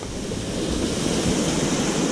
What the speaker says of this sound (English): there's some more water running down on the sides over here